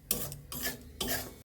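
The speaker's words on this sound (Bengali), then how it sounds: "সুজি ভাজা হচ্ছে" Semolina dry-roasting in a pan over low heat, stirred in three short scraping strokes, a gritty rasping sound heard close and quiet.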